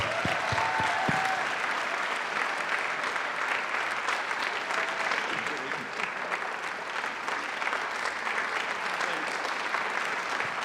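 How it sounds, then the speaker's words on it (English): An audience at a panel on Buddhism and mindfulness in education applauds a speaker, steady, dense clapping sustained throughout with no voices on top. "Let's give him a big applause."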